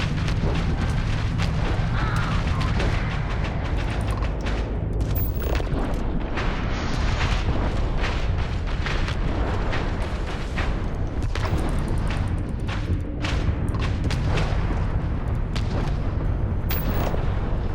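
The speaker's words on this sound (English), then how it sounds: "this big cannon of mine does damage" Big cannon firing in the space game Starfield, a dense, sustained barrage of booming blasts and rumbling explosions that stays loud throughout with no talk.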